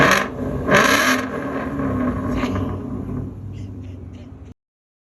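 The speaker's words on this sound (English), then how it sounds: "Rev it up a little bit now. Yeah, rev it up." A car engine revs up and holds a steady rumble with a whirring tone, fairly close, while people talk and laugh over it before it cuts off.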